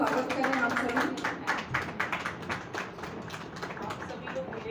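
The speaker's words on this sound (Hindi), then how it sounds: "आदरणीय मीनाक्षी जी का जोरदार तालियों से स्वागत करें आप सभी" An audience at a Hindi poetry gathering claps steadily to welcome a poet, a dense, continuous round of applause that slowly eases off.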